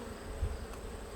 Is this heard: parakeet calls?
no